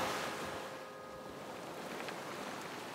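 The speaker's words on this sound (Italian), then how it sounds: "sta arrivando un'onda" An ocean wave rolls in on a beach in an animated children's scene, a soft, sustained wash of surf and breeze that swells at the start and then hisses along steadily at moderate level, without speech.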